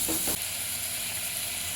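Tomato and curry leaves fry in a pan with a steady, close sizzle and a brief stirring rustle at the start, with no voices.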